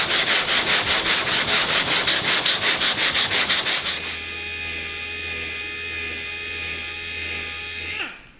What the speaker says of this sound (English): Sure you don't push too hard when sanding